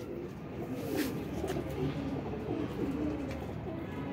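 Soft, continuous cooing from a male and female pigeon pair close by, a low murmuring throb against steady background noise.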